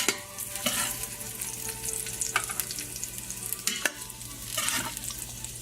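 Meatballs for spaghetti and meatballs fry and brown in a pan with a constant close sizzle, broken by a few sharp crackles and utensil clicks.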